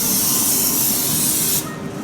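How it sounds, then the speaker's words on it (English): Cooking oil sprayed onto kofta kebabs beside a heated griddle gives a loud, close, continuous hiss that cuts off sharply near the end, leaving a faint room background. "for the kebabs what we're going to do is we're going to spray some"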